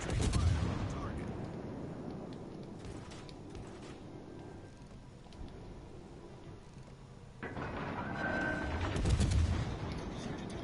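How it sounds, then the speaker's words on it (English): Naval gun salvo in a video game: deep booming blasts with rumbling low-end, a heavier burst at the start and another swelling near the end, with mechanical clanks and a quieter gap between. "We got that last salvo off."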